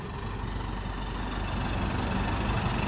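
A tractor engine idles with a low, steady rumble throughout, no voices, the tractor stuck unable to move forward or back with its trolley in a low spot.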